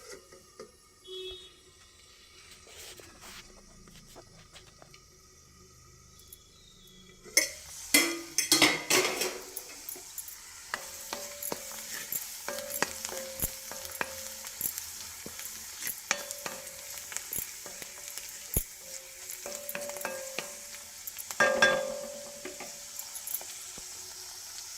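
Prawns and onion fry in a pan as amaranth greens are added, a quiet stretch giving way to a clattering drop and then a steady sizzle with repeated spoon scrapes and metallic taps against the pan.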